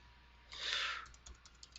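Short burst of computer keyboard typing while entering numeric values in a 3D modeling program, a dense flurry of keystrokes followed by a few scattered lighter clicks, close and fairly quiet.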